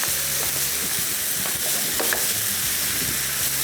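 A meat mixture stirred in a hot pan after a light sprinkle of water, a dense steady sizzle with repeated scraping strokes and faint low hum underneath.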